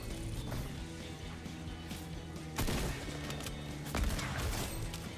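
Rapid gunfire bursts from the Fortnite video game, played on PC, crackle over a steady mechanical game soundscape, with two sharper, louder shots standing out near the middle and end.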